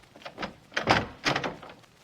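A door opening as a radio drama sound effect: a short run of clicks, a rattle and a creak, with two stronger bursts in the middle, close and fairly soft.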